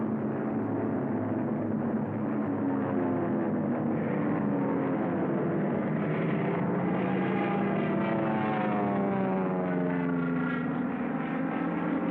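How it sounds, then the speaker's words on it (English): Carrier-based WWII propeller planes circle over the target near Suribachi, producing a loud, continuous engine drone whose pitch slowly rises and falls as they pass, with no voices. "The support air director contacts carrier planes circling the target."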